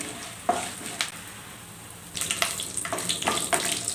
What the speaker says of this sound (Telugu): మనకి పోపు గింజలు, పల్లీలు అవి వేగిపోయినాయి కదా